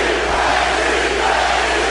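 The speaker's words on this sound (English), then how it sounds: "As the crowd roars behind the hometown favorite, Jeff Lacy." A boxing arena crowd roars in a dense, loud, continuous wall of cheering and yelling for hometown favorite Jeff Lacy in his bout against Robin Reid.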